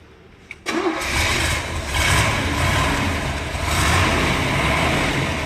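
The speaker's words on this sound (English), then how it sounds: "Rex, what do you say you jump in it and give it a quick start?" A 1967 Corvette with a solid lifter engine cranks briefly and fires up, then settles into a loud, steady, rumbling idle up close, with the engine revving slightly once or twice.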